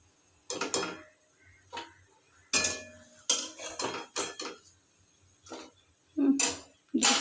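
Dried red chillies being lifted out of a cooking pan, with a handful of sharp metallic scrapes and clinks of a utensil against the pan, separated by short pauses.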